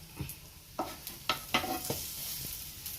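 Sweet bread snacks fry in hot oil with a soft, steady sizzle, punctuated by several sharp clinks and scrapes as the pieces are stirred and flipped in the pan, close and fairly quiet.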